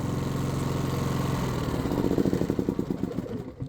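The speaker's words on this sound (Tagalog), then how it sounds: "Patayin muna natin yung ating generator" A PK7500i generator engine runs loud and steady, then stutters into a slowing, pulsing chug as it is switched off, the beats spreading apart before the sound dies away.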